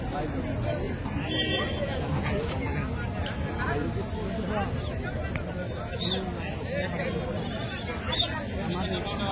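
Goats bleat repeatedly at the Tuesday livestock market in Kadiri, several animals calling out near and far over a constant murmur of crowd chatter.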